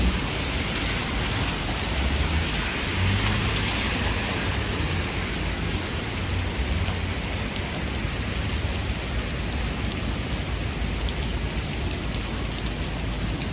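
Heavy rain from Hurricane Elsa pouring down on a Manhattan street in the West Village at night, a dense, loud, unbroken hiss of downpour on pavement with a faint low rumble underneath.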